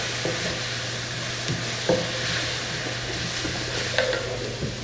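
Curry sizzles in a pan on high heat with a steady frying hiss, while a few soft stirring scrapes and clinks of a utensil against the pan come through up close.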